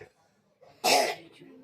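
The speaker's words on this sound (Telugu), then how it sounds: "దగ్గు చాలా వస్తుంది గైస్ నాకు" A single sharp cough bursts out close to the microphone after a faint breath, short and harsh, followed by a low murmur as things settle.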